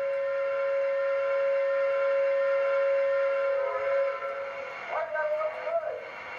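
A steady, sustained model train whistle tone with a low drone holds for several seconds, then wavers and bends in pitch near the end, rather thin and electronic.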